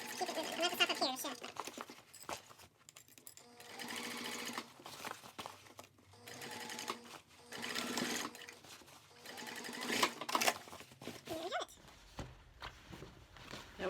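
A sewing machine runs in steady bursts as it stitches a seam on a cork fabric clutch, pausing briefly between runs, close and clear, with a person speaking softly over it.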